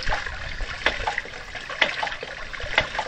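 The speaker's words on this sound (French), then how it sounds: "Ah, le joli bruit clair là du clapet Walton" A Walton W3 hydraulic ram pump under test, its valve giving sharp periodic clacks roughly once a second over a steady rush of flowing water, close by.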